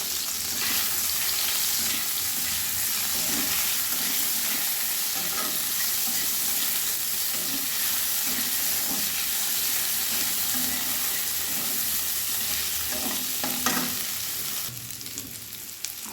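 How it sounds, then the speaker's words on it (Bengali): Boiled potatoes fry in oil in a pan, a steady close sizzle lasting throughout, with occasional stirring scrapes and a few louder crackles toward the end. "এবার আলুগুলো ভেজে নিচ্ছি"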